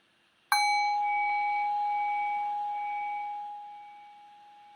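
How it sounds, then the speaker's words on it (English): A meditation bell is struck once and rings with a clear, sustained tone that slowly fades toward silence, alone in a quiet room. "Rest your thinking mind on the decay of the bell."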